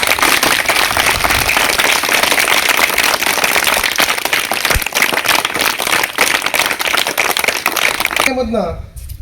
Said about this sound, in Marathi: यांच्यासाठी एकदा आपण जोरदार टाळ्या वाजवू